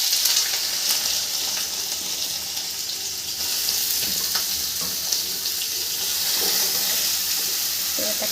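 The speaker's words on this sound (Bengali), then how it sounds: "দিয়ে একটা মেশানো ভাজা করে নেব" Mixed vegetables of carrot, pointed gourd, capsicum and potato fry in a pan with a constant loud bright sizzle, steady throughout with small stirring clicks and scrapes, no talking.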